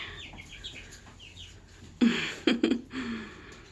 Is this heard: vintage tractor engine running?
no